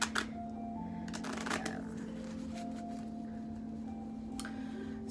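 A tarot card deck is shuffled by hand, with quick riffling bursts near the start and scattered soft card flicks and taps afterward, close and fairly quiet.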